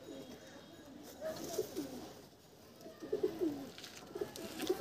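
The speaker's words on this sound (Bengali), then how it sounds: "প্রচুর ছটপটে পায়রা, হাতে ধরে দেখা যাচ্ছে না।" Desi pigeons in a loft coo softly and repeatedly in short rounded phrases, faint and fairly close, with quiet background rustle and no voices.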